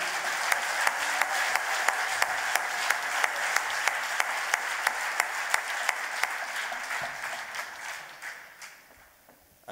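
Stormy applause from a live concert audience at a Moroccan and North African music show, dense continuous clapping with a few sharp rhythmic claps cutting through, fading out near the end.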